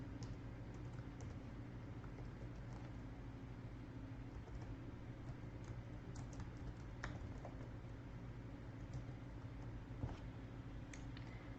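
Faint, irregular clicks of fingers on a computer keyboard as a domain name is typed, steady and unhurried over a low constant hum, with no speech.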